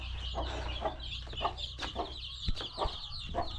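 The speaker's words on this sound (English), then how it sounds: "Yeah, and see our chicks." Young chicks being raised at a home cluck and peep softly in repeated short calls, fairly close, over a low background hum.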